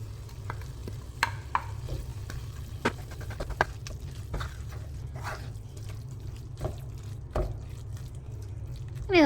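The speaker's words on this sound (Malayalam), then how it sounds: "ഇനി നമുക്കിതിലേക്ക് പ്രോൺസ് ചേർത്ത് കൊടുക്കാം." Prawns stirred into a thick masala in a pan, giving a steady low sizzle with scattered scraping and clinking stir strokes and occasional sharper taps, close and fairly quiet, no voices.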